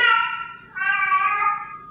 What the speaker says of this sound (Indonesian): ada suara kucing aku